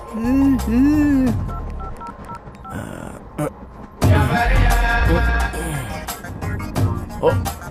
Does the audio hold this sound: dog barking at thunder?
no